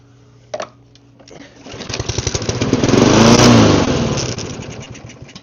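A rough-running lawn mower engine fires up on carb cleaner after a short pull, then rises into a loud, buzzing rev that swells and holds before easing slightly, heard close up.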